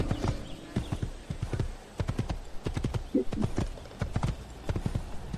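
Horse hooves clip-clop at a steady trot in Assassin's Creed, close and fairly loud, with a brief whinny midway and a voice talking over it.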